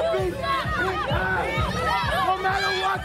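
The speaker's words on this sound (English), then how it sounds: "This crowd firmly behind Mr. James, chanting his name" A wrestling crowd at an independent wrestling show chants rhythmically, the massed voices rising and falling in a steady repeated cadence close to the microphone and filling the whole stretch.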